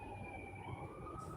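Wailing emergency sirens drift from a distance outdoors, a steady pitched tone held over a low rumbling street-noise bed.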